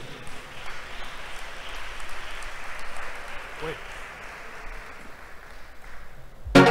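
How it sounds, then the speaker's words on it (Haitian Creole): Audience applauding the seven contestants joining the stage at a Miss pageant final, a broad wash of clapping from the crowd that fades slightly, ending in a loud burst. "Je vous invite à les applaudir pour nous rejoindre sur scène"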